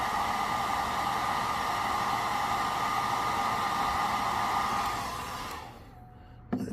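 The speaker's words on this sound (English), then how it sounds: "I'm just going to take my hair dryer" A hair dryer blows with a loud, steady whooshing whine, used to heat-set airbrushed paint on a fishing lure, then powers down near the end, leaving a brief clunk.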